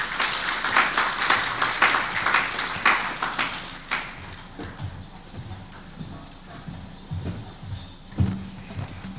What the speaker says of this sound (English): Another round of applause to Ms. Suzanne.